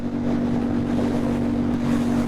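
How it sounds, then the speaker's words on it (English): A loud, constant engine roar with low rumbling tones and wind buffeting, sustained throughout without breaks, from the Akrapovic exhaust of a 2008 KTM 990 Super Duke motorcycle at speed. "the Acra exhaust is really loud"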